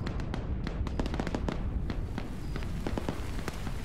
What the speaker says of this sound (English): So Nemesis, he's hearing those gunshots.